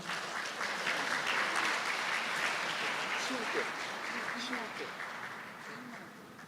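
An audience applauds at a Teachers' Day ceremony as panelists take the stage, with steady, sustained clapping that fades slightly toward the end, with faint voices underneath.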